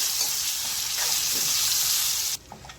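Chopped amla gooseberries with green cardamom sizzle hard in hot oil while being stirred for pickle, a loud steady frying hiss that cuts off abruptly near the end.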